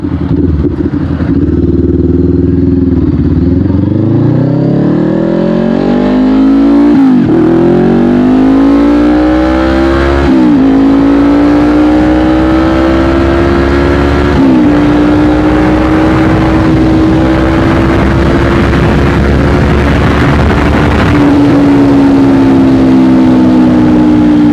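Honda CBR500R, a 2020 model, fitted with an aftermarket exhaust, roars loud and close with a deep, throaty note, climbing and dropping through several gear changes as the bike rides without a break.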